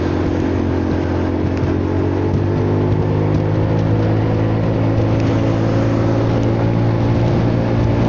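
A Honda Forza 300 scooter engine revving, a loud, continuous close-up engine drone sustained steadily throughout.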